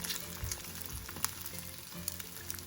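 An egg crackles and sizzles in a frying pan after being flipped, faint steady spitting oil with scattered sharper pops and light scraping, no voices.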